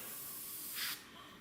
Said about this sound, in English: you spray the tape, not the decal